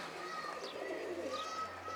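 Soft, low cooing of a pigeon or dove, fairly distant, with faint chirps and a steady low background hum.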